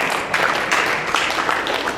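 A fraternity crowd at the University of Nebraska, Lincoln applauds for three people, a dense steady clapping that holds at even loudness for the whole stretch.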